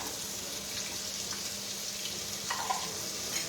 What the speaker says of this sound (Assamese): এইখিনি প্ৰথমত অকণমান মই ভাজি ল'ম